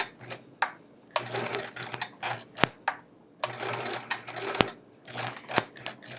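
A sewing machine stitches quilt appliqué around a circle template, running in short bursts of rapid mechanical chatter separated by brief pauses, close and fairly loud, with a faint low hum beneath and no speech.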